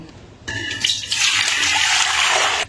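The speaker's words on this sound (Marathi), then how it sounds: "आता हे पाणी आपण काढून टाकणार." Water soaked overnight with wheat for kurdai is poured off, starting with a short splash and then becoming a steady, rushing pour that continues close by until it stops abruptly.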